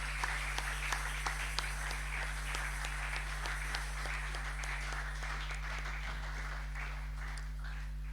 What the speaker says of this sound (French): Si tu as été béni ce soir, est-ce que tu peux acclamer le Seigneur